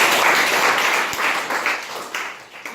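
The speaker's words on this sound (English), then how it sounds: "A round of applause to everybody." Steady applause from a group in a classroom, dense clapping that fades a little toward the end.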